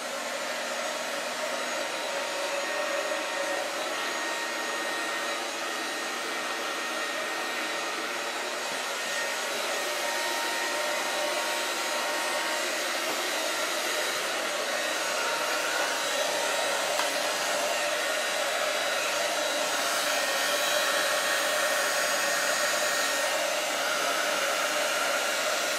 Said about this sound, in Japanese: まず前処理としてドライヤーをかけるんですけど